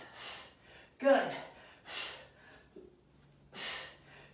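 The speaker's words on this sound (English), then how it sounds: "Big exhale." Heavy, forceful exhales during an abdominal crunch workout, several loud breathy bursts spaced about a second apart, close to the mic and alone between efforts.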